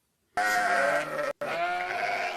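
Sheep bleat loudly and steadily in the background, one long wavering call followed after a brief gap by another sustained bleat.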